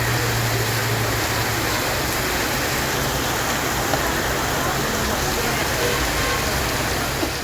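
Heavy rain pours down steadily as a dense, unbroken hiss that stays loud and constant throughout.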